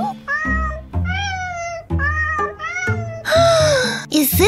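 An animated cat gives a run of loud, close meows, about seven drawn-out calls in a row, rising and falling in pitch, ending in a higher, strained cry.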